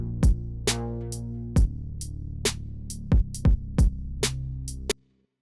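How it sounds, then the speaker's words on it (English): A drum and bass pattern programmed in Cubase with the hi-hats removed: about nine punchy kick and snare hits in a loose, syncopated rhythm over a sustained low bass tone, ending abruptly. "I'm going to use the same drum pattern but without the hi-hats."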